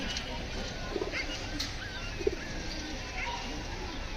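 Racing pigeons coo softly at a loft, giving a few brief, low murmured calls spaced over a few seconds against a faint, steady background.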